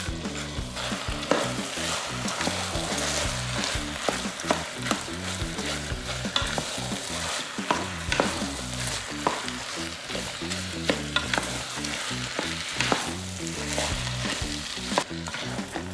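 Ground turkey browns and sizzles in a Ninja Foodi pot, a continuous crackling hiss with regular scraping and clattering strokes as it is stirred, close and steady throughout.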